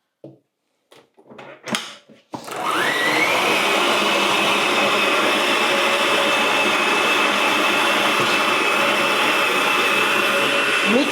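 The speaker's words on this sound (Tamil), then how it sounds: "மிக்ஸ் பாருங்க" A kitchen mixer grinder starts up after a few brief clatters and then runs steadily, a loud continuous whirring motor drone that holds for several seconds without talk.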